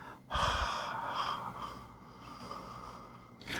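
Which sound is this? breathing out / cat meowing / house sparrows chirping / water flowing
breathing out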